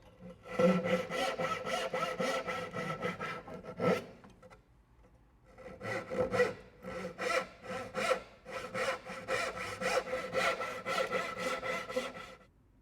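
A hand saw cuts through a wooden board on a workbench in steady, rhythmic back-and-forth rasping strokes, close and loud, pausing briefly midway before resuming a quicker sawing run.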